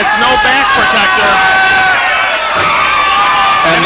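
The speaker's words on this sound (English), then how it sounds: "the crowd absolutely loves it" A wrestling crowd at an SSW Championship indoor show cheers and shouts loudly and continuously, a dense roar of voices with children's yells mixed in.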